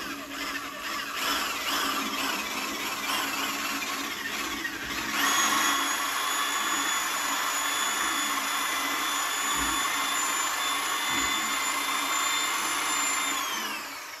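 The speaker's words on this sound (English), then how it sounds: "So we need to reverse the drill so that it winds, it goes with the wind." A power drill spins in reverse, feeding a flexible cleaning line through the heat riser intake of a VW Beetle with carburetor icing. Low scraping gives way to a loud, steady, close whine that runs for several seconds before winding down.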